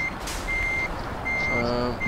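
A truck backing up in the Euro Truck Simulator video game gives off loud, steady reversing beeps, evenly spaced tones over a constant diesel engine rumble, with no speech.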